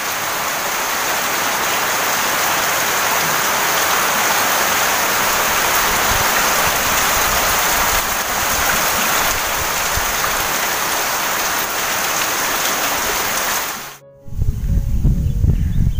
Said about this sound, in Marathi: जोरदार पाऊस, जोरदार.